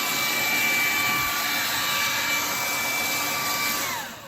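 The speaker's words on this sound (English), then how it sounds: "So just put a hair dryer with you and put it here" A hair dryer blows a loud, steady whine onto ice frozen inside a refrigerator, then winds down as it is switched off at the end.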